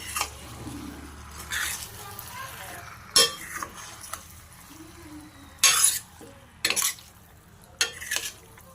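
Intermittent scraping and clattering of a spoon stirring chicken curry in a pan, with a few sharper metallic knocks against the rim over a low background hum.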